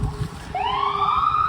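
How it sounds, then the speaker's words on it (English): An ambulance siren passes by outdoors, its wail rising in and holding as a strong, steady tone after a short rumble and some wind noise. "Oh, ambulance."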